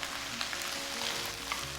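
Onions and garlic frying in a pan, a steady soft sizzle with faint crackles and pops throughout, no talk.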